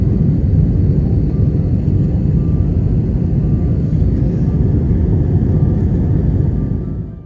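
A steady, loud airplane engine drone fills the whole stretch, a constant low roar of an aircraft in flight that fades slightly at the end.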